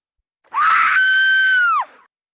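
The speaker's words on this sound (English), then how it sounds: "they heard a piercing scream from a nearby park." A single piercing scream in a story scene set near a park, rising sharply and holding a sustained, strained pitch for over a second before breaking off, loud and close with no other sound.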